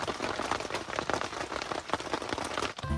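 Rain drums densely and steadily on a tent on Mount Salak, a close, continuous patter of drops with a brief dip just before the end.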